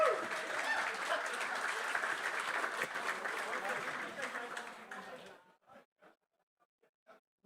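Spectators applaud at the opening ceremony of a gas balloon race, a full wash of clapping with crowd voices beneath that fades out after about five seconds, leaving a few scattered claps and sounds.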